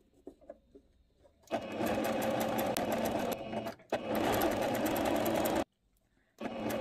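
A sewing machine stitches the folded hem of a viscose skirt in two sustained, loud runs separated by brief pauses, after soft handling noises at the start.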